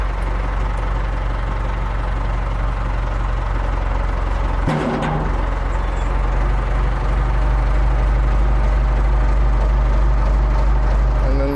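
A Case 4230 tractor's diesel engine runs in a steady, close drone as it drives forward off its Quicke Q750 loader, with a single sharp clunk partway through.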